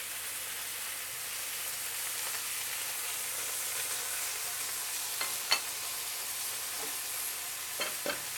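Lobster and pork sizzle hard in a pan over the highest heat, a dense, steady, close-up hiss with a few sharp pops and clicks of stirring near the end, no voices.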